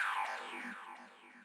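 A guitar sample run through a resonant auto filter, its cutoff swept downward in a house-music production: a short, bright, ringing tone darkens and fades over about a second and a half, heard alone.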